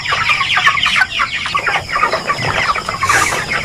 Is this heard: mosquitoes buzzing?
no